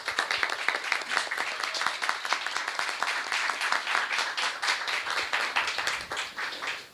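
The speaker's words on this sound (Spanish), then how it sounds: "quiero pedir un fuerte aplauso para él" Sustained applause and clapping from an audience at a book launch, dense and steady throughout, moderately loud with no talking.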